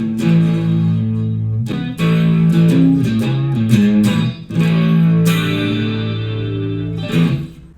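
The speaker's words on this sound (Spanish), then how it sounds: "El delay lo noto que está muy largo." An electric guitar played through a HeadRush Gigboard multi-effects pedal with a long delay, each chord and note ringing on in repeated echoes that pile up and blur together, loud and continuous with short gaps between phrases.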